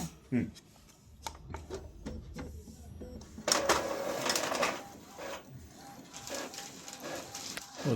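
Epson L3260 inkjet printer making a black-and-white photocopy, with soft mechanical whirring and clicks followed by a denser feeding rattle, quiet and close, with some speech around it.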